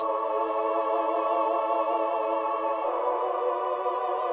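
Four layered synth choir patches hold a sustained chord with a wavering vibrato, their tone softened and muffled by filtering, shifting to a new chord partway through.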